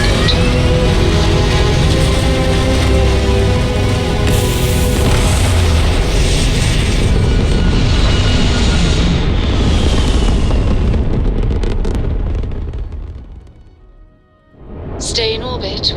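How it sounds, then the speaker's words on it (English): Spaceship lifting off in the game Starfield, a loud sustained roaring rumble with rising whine that fades out near the end before a brief sharp burst returns. "Takeoff looks good."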